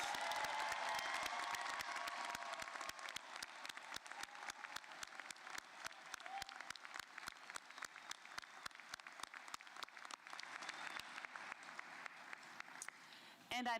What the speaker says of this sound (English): Can we have one more round of applause for all of our graduates?